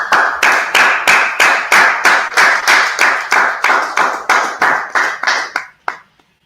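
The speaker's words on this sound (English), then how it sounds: "Clap it up." A group at a community junior high gathering in Harlem, New York claps in unison, about sixteen sharp, loud claps at a steady beat before stopping abruptly.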